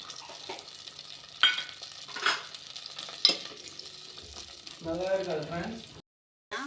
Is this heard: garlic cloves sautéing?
yes